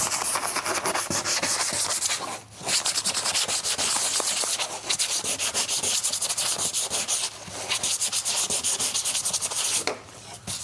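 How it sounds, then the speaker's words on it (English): Steady, loud abrasive rubbing of sandpaper over a sealant-coated acrylic ground on an ACM panel, continuous back-and-forth strokes with brief pauses, close up and with no talking. "So I'll quickly sand without talking"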